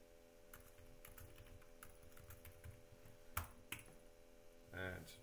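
Keys tapped on a computer keyboard while a command is entered into the Kibana Dev Tools console, giving a quiet, irregular run of clicks with a couple of sharper strikes near the end over a steady background hum.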